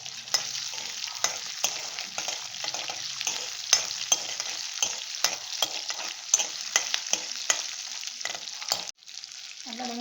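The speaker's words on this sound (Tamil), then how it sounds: "நல்லா வெங்காயம் வெள்ளைப்பூடு வதங்கிடுச்சுங்க." Onion and garlic frying in oil in a pan for a betel-leaf kara kuzhambu, a steady loud sizzle broken by frequent scraping stirs, then dropping off near the end.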